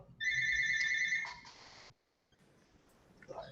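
A phone ringtone sounds for under two seconds, a steady high electronic trill, then cuts off, leaving quiet room tone with a faint noise near the end.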